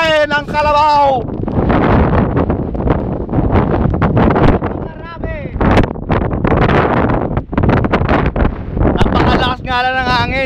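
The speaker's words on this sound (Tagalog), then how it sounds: "Napakalakas nga lang ng hangin" Strong wind on an open hilltop overlooking sea and mountains, buffeting the microphone in loud, gusty rumbles that rise and fall throughout, with people talking over it at the start and end.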